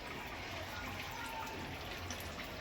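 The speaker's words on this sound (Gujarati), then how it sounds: "બધા ઝાડમાં પાણી છાંટી દઉં." Water is sprayed over plants and poured into flower pots on a hot day, a faint steady hiss and trickle running evenly for a couple of seconds.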